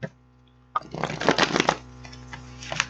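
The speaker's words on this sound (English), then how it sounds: "Get these cards shuffled up" Tarot cards being shuffled by hand, a burst of riffling and flapping card noise after a brief quiet start, close up over a faint steady hum.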